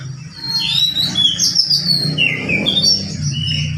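A kacer giras (magpie robin) sings continuously, with bright, varied chirps and whistled phrases carried over a low background hum, loud and close throughout.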